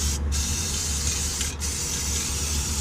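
Aerosol spray coating laid over a truck's DPF pipe, a close, loud continuous hiss holding steady with two very brief breaks as the nozzle is released.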